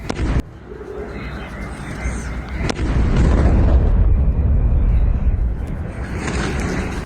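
A loud, rumbling missile explosion in Beersheba, with a sharp crack near the start and a second sharp hit, followed by a sustained heavy roar that slowly fades.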